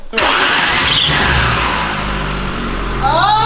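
A cheap used car's engine turns over and settles into a steady, loud running rumble, with a brief rise in revs near the end.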